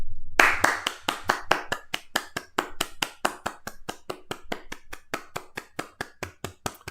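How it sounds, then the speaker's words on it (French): One person claps their hands steadily in a regular rhythm, each sharp, close clap distinct, continuing on alone for several seconds. "J'applaudis parce que"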